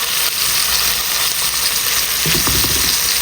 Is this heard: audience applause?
no